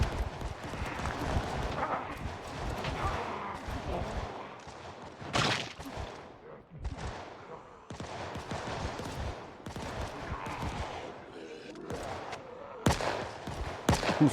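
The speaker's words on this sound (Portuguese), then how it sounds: "O som dos tiros do lado de fora aumentou consideravelmente" Video game gunfire heard from outside: rapid bursts crackle throughout, dense volleys with brief gaps, loud and close, with sharp isolated shots standing out.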